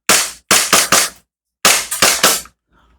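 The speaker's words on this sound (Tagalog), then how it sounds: "Ready to fire. Glock 19, unit natin ka-Airsoft." A Glock 19 airsoft gas pistol fires six sharp, loud, close cracks, one single shot then a quick pair, a short pause, and a fast burst of three.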